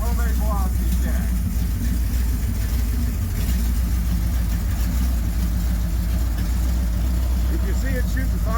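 A 440 big block Mopar V8 with a homemade velocity stack runs rough and kicks back, a loud, steady low rumble that fills the whole stretch, with voices talking over it.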